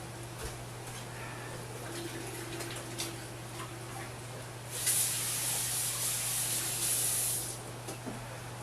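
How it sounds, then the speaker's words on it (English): Tap water runs steadily for a few seconds as hands are washed in a kitchen while cooking, a bright hiss over a constant low hum, with faint clicks and handling noises before it. "Go wash your hands again."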